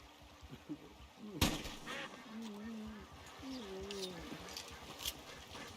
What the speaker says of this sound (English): Oh, those are ducks.